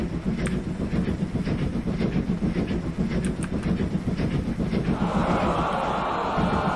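A long freight train of oil tank cars rolls along in the Locomotion railway game, with a rhythmic clickety-clack of wheels over rail joints and a rumbling undertone that brightens into a steady hiss near the end.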